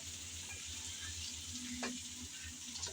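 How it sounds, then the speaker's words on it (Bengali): Potatoes stirred and fried in a pot for mutton biryani give a steady soft sizzle, with a faint brief utensil scrape partway through and no talking. "এখন নেড়ে চেড়ে ভালোভাবে একটু আলুগুলো ভেজে নিতে হবে"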